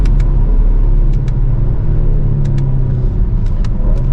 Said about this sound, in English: Auto upshift at red line.